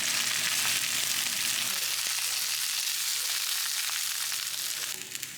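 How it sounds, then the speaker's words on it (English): Shredded red and green cabbage stir fries in olive oil, a loud, steady hiss and crackle up close that eases slightly near the end, with no talking. "Just added some olive oil and I'm gonna stir fry it until they get reduced."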